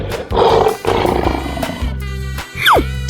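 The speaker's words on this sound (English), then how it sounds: "Lion." A lion roars loudly in a 3D cartoon animal slide game, one sustained growling roar rising then trailing off against a steady game music bed, with a short pitch-sweeping effect near the end.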